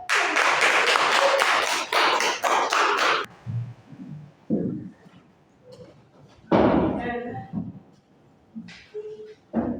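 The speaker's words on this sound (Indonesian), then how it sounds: "Beri tepuk tangan untuk" Classroom children clap together in a short, loud burst at the start. It gives way to scattered thumps and a few voices talking afterward.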